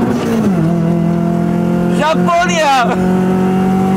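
A Honda Civic EJ9 engine revving hard, a loud steady drone with a rise in pitch partway through, heard from inside the car while people talk and shout over it.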